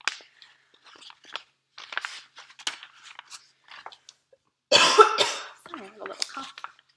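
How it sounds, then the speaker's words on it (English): A single throaty cough bursts out in the middle of a reader's steady narration, voiced as part of a children's story about a mouse, loud and close, with talking before and after. "Sorry, I have a little cough."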